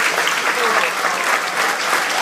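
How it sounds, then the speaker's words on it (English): Loud, dense applause from a school audience at a house championship event, a continuous roar of clapping hands in appreciation of Mr. Fee, with no break in the sound. "So I think we need to show a really big round of applause and appreciation for Mr. Fee."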